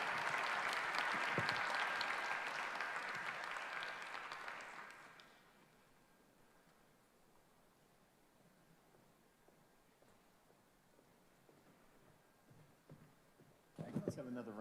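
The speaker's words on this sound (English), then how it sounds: "Let's have another round of applause for the Lieutenant Governor of the great state of New Jersey" Audience applause for the Lieutenant Governor of New Jersey at a Thomas Mundy Peterson Day event, a loud sustained crowd clapping for about five seconds that fades to quiet room tone, with a brief burst of noise at the very end.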